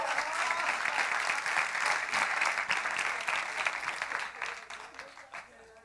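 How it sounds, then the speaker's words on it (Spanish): A crowd applauds steadily in a hall during a Spanish-language talk, a dense continuous wash of clapping that tapers off toward the end. "¿Por qué no le dan un aplauso, por favor?"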